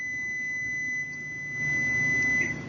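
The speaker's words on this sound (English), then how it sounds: "Sorry about that, my buzzer's going off." A buzzer goes off with a steady, unbroken electronic tone that holds for a few seconds over a low room hum, with no talking.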